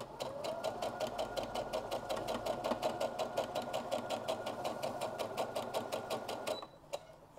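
A sewing machine runs steadily in a fast, even stitching rhythm while sewing down a fold on a puff quilt square, loud and close, then stops near the end with a brief click.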